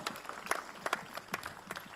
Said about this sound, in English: Let's have a big round of applause for them, please.